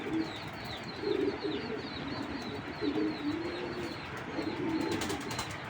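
A long-bodied male silver Giribaz racing pigeon coos in repeated low throaty phrases, close by, over faint background chirps and a steady ambient hiss.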